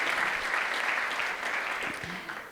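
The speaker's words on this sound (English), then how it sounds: "Just give him a round of applause." A symposium audience claps in a brief, steady round of applause, moderately loud and even throughout, tapering slightly at the end of a couple of seconds.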